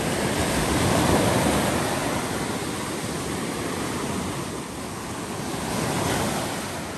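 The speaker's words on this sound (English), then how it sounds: "Tide's coming in." Mediterranean surf rolling onto a beach at night as the tide comes in, a steady broad wash of breaking waves with a swell near the start and again toward the end, with wind noise and no voices.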